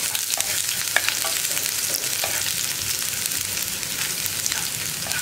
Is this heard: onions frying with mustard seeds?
yes